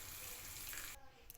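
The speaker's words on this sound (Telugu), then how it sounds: "లైట్గా వాటర్ పోసుకుంటున్నాను కొంచెం గ్రేవీకి" Water goes into a potato and bean curry in a pan for gravy, a quiet pouring hiss with a light sizzle that breaks off near the end, heard close up.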